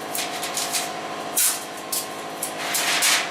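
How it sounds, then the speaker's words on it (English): A spray gun hisses steadily while applying coating to a porcelain bathtub during resurfacing, with several louder bursts of spray across the stretch and no talking. "it depends how you spray. Again, everything determines on how you handle that gun"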